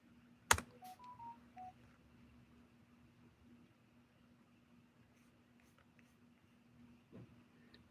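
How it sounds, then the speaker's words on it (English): Someone types one-handed on a phone keypad: a few short, quiet key tones near the start, then a soft, steady background hum. "Typing with one hand."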